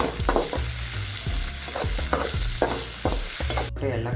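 Masala frying in oil in a pan for a Vijayapura-style masala, with repeated stirring scrapes and a steady sizzle, close and fairly loud.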